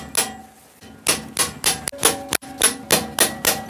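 A big hammer strikes metal on a Honda 125SS motorcycle repeatedly, about eight sharp, ringing blows in an uneven rhythm, loud and close.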